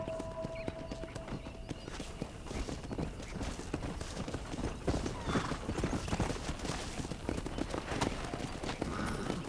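In the video game Red Dead Redemption, a horse gallops with a steady, rapid patter of hooves at moderate volume, accompanied by a faint snort or whinny.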